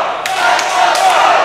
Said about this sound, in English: Let's go Fro, the crowd says.